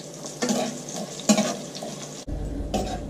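Onions frying in a pan for a zucchini coconut korma, a steady close sizzle with bursts of stirring and light clatter of utensil against the pan, and no talking.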